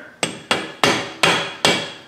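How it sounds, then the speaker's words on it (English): A plastic hammer strikes a car's front-wheel-drive axle to knock it loose, five sharp, loud blows at a steady, slightly irregular pace, each with a short ringing decay. "Grab a plastic hammer"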